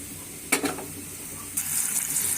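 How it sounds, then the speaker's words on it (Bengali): Loitta dried fish paste and dried chillies dropped into hot oil, with a sharp burst of sizzling, then a second surge that settles into steady loud frying. "আমি এখন লইট্টা শুটকির ভর্তা তেলে দিব।"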